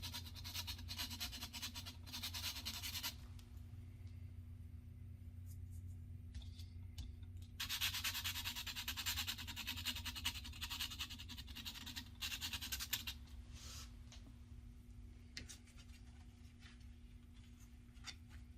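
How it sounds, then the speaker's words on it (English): Hair shear tips being scraped with the shears switched off, an abrasive rasping much like a nail buffer but rougher, in two sustained bursts over a steady low hum, with no talking. "So you turn it off, and you're just scraping the tip."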